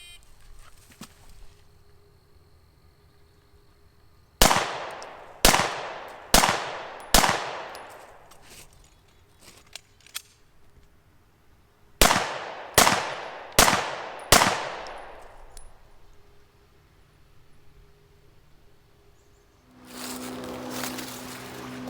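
Nine sharp, loud H&K P30 pistol shots ring out outdoors during a police qualification course, fired in two rapid strings of four and five with echoing decays, with a low rumble of handling noise near the end.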